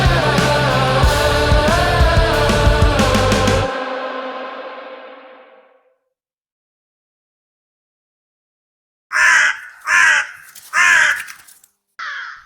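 A crow caws four times in a quick, evenly spaced series of harsh calls. The calls are loud and near, and they come after a stretch of silence that follows fading music.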